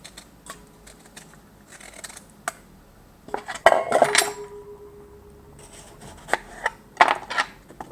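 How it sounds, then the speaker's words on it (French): A small spoon scrapes the seeds from a halved cucumber in a run of light scratches and clinks against a plate, with a busier burst of scraping in the middle and a few more at the end. "je coupe en deux, et puis tout simplement, j'enlève avec une petite cuillère, hop, je retire"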